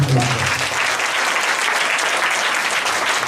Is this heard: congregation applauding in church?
yes